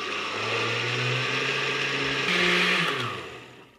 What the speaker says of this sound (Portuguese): Vou bater em velocidade mínima